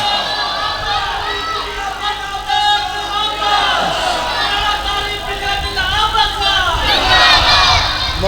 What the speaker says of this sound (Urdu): اچھا کٹھے ہی نعرے شروع کر دینے کٹھے ہی چپ کر جاتے ہیں